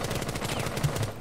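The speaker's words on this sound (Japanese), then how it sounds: "R4C の銃声がうるさくてすいません" R4C rifle fire from a Rainbow Six Siege match crackles in a rapid burst of closely spaced shots, fairly faint and continuous through a short stretch.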